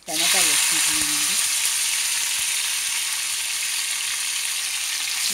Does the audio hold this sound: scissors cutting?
no